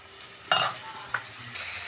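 Green chillies and onions fry in a little oil with salt, a steady soft sizzle broken by a loud scrape-and-stir burst near the middle and a shorter clatter just after, no voices.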